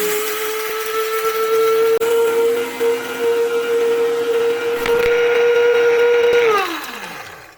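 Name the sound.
powerful mini grinder running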